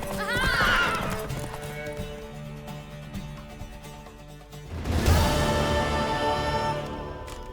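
Hooves clatter in a fast galloping rhythm in The Witcher 3: Wild Hunt, opening with a horse's whinny and swelling louder again partway through, like a game soundtrack.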